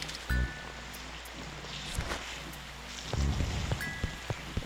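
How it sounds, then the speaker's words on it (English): Rain falls in the city area of the video game Animal Crossing City Folk, a steady close hiss with soft tonal game sounds and a few gentle thumps on top. "it is raining up here in the city"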